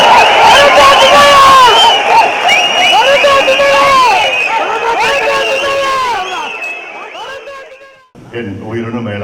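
A large crowd at a political party general council meeting cheers and applauds loudly with many shouting voices, fading out after several seconds before a single amplified speaker begins talking.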